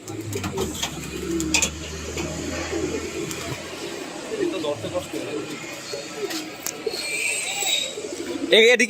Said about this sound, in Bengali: এখানে অসংখ্য রেজাল্টের কবুতর আছে